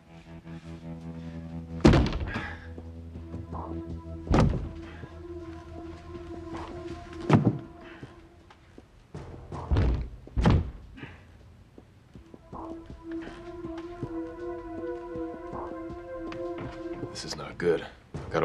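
Someone tries to force a locked door open with a series of heavy thuds and bangs, spaced irregularly, over people talking and a sustained musical score.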